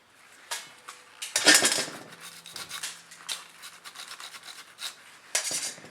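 Scrubbing on the nozzle of a 7500QT/7700QT spray gun, behind the trigger where the gland nut seats: bursts of brisk scraping and rubbing in uneven strokes, close and moderately loud, with short pauses between.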